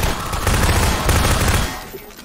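A rapid burst of gunfire in Half-Life 2: Episode One, loud and dense for over a second before tapering off into a fading rumble.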